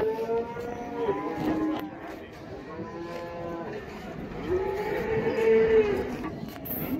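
Cattle low and moo repeatedly at a livestock bazaar in Taraz, with long drawn-out calls rising and falling over a busy market din and faint voices in the background.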